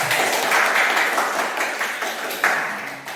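Fifth-grade pupils in an elementary classroom clap for a group after it presents its answers, a loud, bright burst of children's applause that swells and fades with a few sharper claps.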